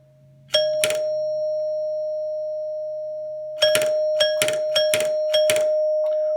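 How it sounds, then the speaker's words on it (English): A doorbell dings, hums steadily, then rings again in a quick burst of four or five sharp strikes over a sustained electric tone. "what's going on to cause that bell to ring?"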